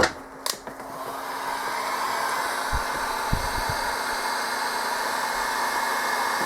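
A heat gun blows a steady, broadband hiss while shrinking tubing on a wiring harness for a 2001 Ford F-250 with a 5.4 engine. A few clicks and faint knocks sound at the start, then the even blowing carries on alone.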